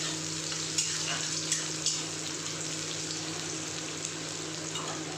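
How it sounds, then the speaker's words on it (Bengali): Onions fry in a pan, browning with a steady, close sizzle and a few soft clicks and taps from stirring. "পেঁয়াজটা দিয়ে একটু ব্রাউন হবে"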